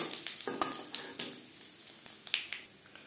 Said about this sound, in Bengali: 3 চামচ রিফাইন্ড অয়েল গরম করে নিয়েছি। ফোড়নে দিয়ে দেব 4টে কাঁচা লঙ্কা, তেজপাতা,